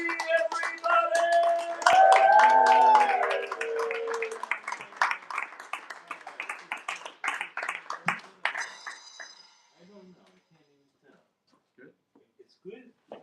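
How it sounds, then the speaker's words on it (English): An audience applauds at a live show as a performer from Mount Holly, Vermont is welcomed; dense clapping with a whoop runs under an announcer's loud talk, then thins into a few scattered claps and quiet voices. "Give him a big round of applause."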